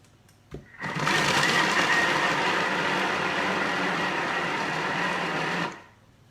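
A food processor whizzes mozzarella and parmesan with a little pepper, its motor roaring in one continuous, loud, steady burst of about five seconds before winding down, with no talking over it.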